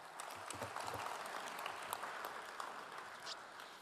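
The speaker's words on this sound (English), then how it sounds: "What a great round of applause" Audience applause at a rodeo, a steady dense wash of clapping that holds at an even level throughout, fairly distant and without voices standing out.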